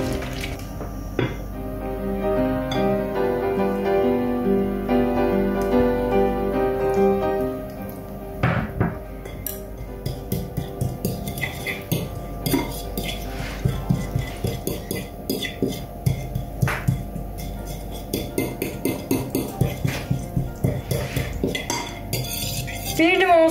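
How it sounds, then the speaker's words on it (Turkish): A spoon clinks and scrapes against a bowl while lemon juice is stirred into crushed garlic, a busy run of close metallic taps and rattles that quickens toward the end. "bir tanesini sıkıp sarımsaklarla karıştırıyorum"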